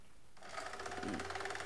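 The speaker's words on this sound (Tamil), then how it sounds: "இப்போ இதை மடக்கி அப்படியே தைச்சிட்ருக்கோம்." A sewing machine runs a steady fast stitch along a folded seam on a child's frock, starting after a brief quiet moment and continuing evenly, close and fairly soft.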